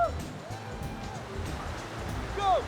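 Rapids on the Little Colorado River in the Grand Canyon, heard from a raft carrying people in life vests: a steady, moderate rush of churning water with brief squeaky whistles and a louder surge near the end.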